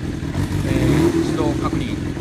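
Kawasaki Zephyr 400 (ZR400C) motorcycle engine cranking on its electric starter and catching, a short close mechanical whir settling into a low idle rumble.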